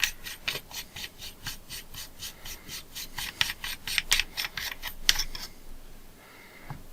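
A lens element on a Pentacon 29mm lens being unscrewed during disassembly: a rapid series of dry, rasping thread scrapes in short rhythmic bursts, close up, then a quieter pause at the end.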